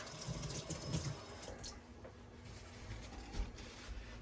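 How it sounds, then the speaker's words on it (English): A Nintendo 64 controller part is rinsed under a running tap, and the water splashes and gurgles steadily at close range with no talk. "Let me just rinse it off a little more."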